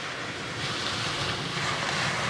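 Gentle ripples lapping at the edge of the Atlantic Ocean, a soft continuous watery wash blended with light wind noise, steady and close with no voices.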